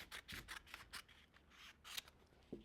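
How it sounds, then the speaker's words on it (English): Scissors cut through folded paper in a run of quick, crisp snips with short gaps between them, close and fairly quiet, and no voices. "fold it over, just like that, and cut along this line"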